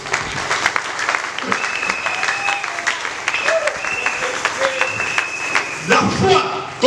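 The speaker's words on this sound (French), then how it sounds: "Applaudir la parole de Dieu." Church congregation applauding during a French-language seminar sermon, a steady wash of clapping under and between a preacher's amplified speech and some sustained tones, swelling briefly near the end.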